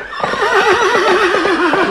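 A horse gives a loud, close whinny, a long wavering neigh with rapid pitch trembles lasting about two seconds, heard alone without talk.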